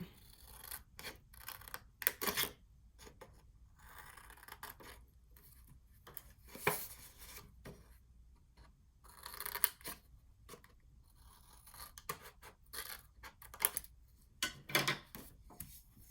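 Scissors snip through paper, cutting out two small squares for the lid of an A2 card box, with a run of short crisp cuts and rasps in bursts and pauses close to the microphone and no talking.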